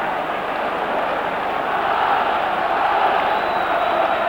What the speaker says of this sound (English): They're on their feet. Cheering Rangers on now